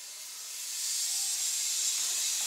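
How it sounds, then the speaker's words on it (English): A steady, fairly loud air compressor hiss fills the whole stretch alone, swelling slightly partway through, beside a custom box overwrapping machine during a mold change. "Now turn off the air compressor."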